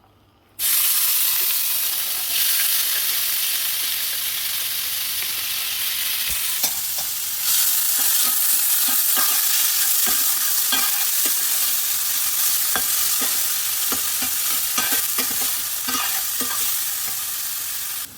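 Onions hit hot oil with whole spices for chana masala, bursting into a loud, steady sizzle that runs without a break, with scattered clicks and scrapes of stirring throughout and no talking.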